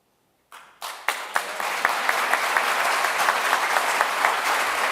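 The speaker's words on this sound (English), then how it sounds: "I've noticed a lot of clapping here" At an Order of Canada investiture ceremony, applause starts from silence with a few separate claps and quickly swells into steady, full audience clapping that holds to the end.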